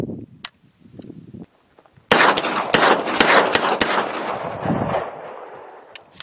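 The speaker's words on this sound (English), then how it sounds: "and we're going to do a live fire test." Live fire of a 9mm rifle fitted with a tungsten bolt carrier, short buffer and very short recoil spring: a rapid string of about seven loud, close gunshots after a quiet start with faint handling noises.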